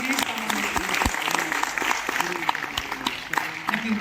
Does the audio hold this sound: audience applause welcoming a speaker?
yes